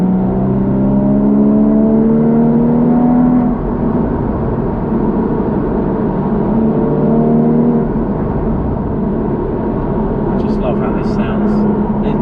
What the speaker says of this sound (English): Nothing can beat a normally aspirated flat six. I don't think there's anything that sounds better.